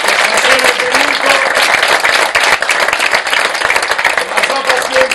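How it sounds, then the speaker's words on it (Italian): Loud, dense applause from a theatre audience honouring the director after an Italian stage comedy, with clapping filling the hall steadily throughout. "un applauso forte al mio regista, Pino Labbate"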